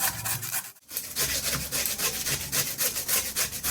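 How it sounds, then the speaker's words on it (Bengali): Squash being grated by hand in a home kitchen, a fast, continuous run of scratchy rasping strokes, close and fairly loud, with one brief pause. "এবার এই কোয়াশটাকে আমি একটু ঘষে নেবো"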